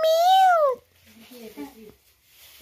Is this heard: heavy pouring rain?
no